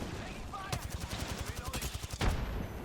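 Automatic weapon fire in the Apex Legends battle royale game, a rapid string of close, evenly spaced shots followed by a heavier blast near the end.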